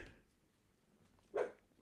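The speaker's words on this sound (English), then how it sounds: "What are they barking at?" A single short dog bark sounds faintly from somewhat off, after a brief voice at the start, over a quiet background.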